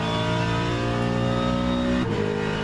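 A Porsche race car in the simulator Le Mans Ultimate roars close by, the engine note revving and climbing steadily before a sharp gear change drops the pitch.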